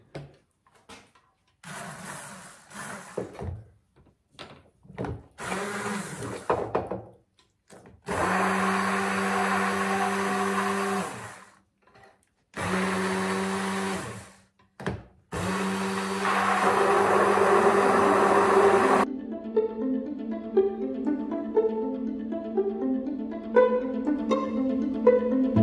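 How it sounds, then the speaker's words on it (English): A kitchen blender purees a thick mushroom cream sauce made with cognac, running in several loud bursts of a few seconds each with short pauses between, followed by quieter clinking and kitchen sounds. "I just pureed the sauce"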